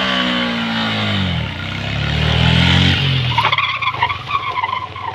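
A motorcycle brakes hard in an emergency stop, its engine note dropping as the tires skid and squeal loudly close by, then the sound breaks into rough, choppy scraping and rumbling as it comes to rest.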